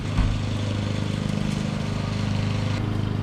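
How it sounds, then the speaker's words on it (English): A lawnmower engine drones steadily close by on Hollywood Boulevard with a rhythmic chugging pulse, running continuously. "let me get past this lawnmower"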